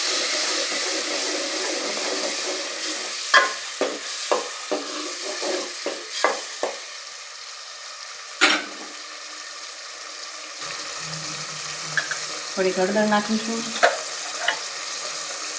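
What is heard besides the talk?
cooking tomato gravy and stirring gently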